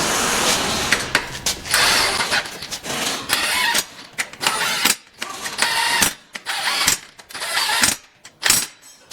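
A ratchet tightens bolts in a star pattern on a Junkyard Dog 12s 4 2k truck build, producing loud bursts of rapid mechanical clicking and whirring separated by short pauses, with no one talking.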